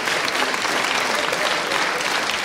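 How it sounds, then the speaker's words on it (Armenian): A studio audience gives a loud, dense burst of applause for kickboxing world champion Avetik Petrosyan, a steady wash of clapping filling the whole short moment. "Ավետիք Պետրոսյանն էլ բարձր ծափարենք,"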